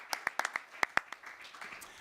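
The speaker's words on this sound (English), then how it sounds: "Let's give him a big round of applause, Jano Lieber." An audience at a press conference in Co-op City starts clapping: a handful of sharp, scattered claps close by, thinning out over two seconds rather than building into full applause.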